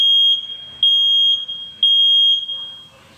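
A 2nd-generation Nest Protect smoke and CO alarm sounds its test with three loud, piercing high beeps in a repeating pattern, each sharp and close, with short gaps between them.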